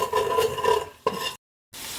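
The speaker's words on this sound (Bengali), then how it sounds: "একটু নাড়াচাড়া করি।" Spiced khichuri mixture with salt, turmeric and red chilli powder being stirred in a pan, a scraping, gently sizzling stir that rises and falls, cuts off briefly into silence, then returns steadily.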